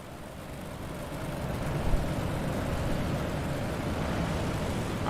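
Big block modified race cars circle the track as the pace car pulls off, producing a steady, distant roaring drone of engines with crowd-like broadband noise and little change in level.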